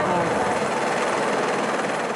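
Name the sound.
helicopter arriving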